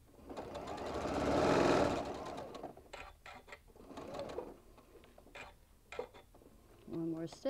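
Sewing machine stitching a small bean bag, running in bursts with pivots between seams; a close, rhythmic needle rattle rising and falling, with a voice speaking briefly near the end.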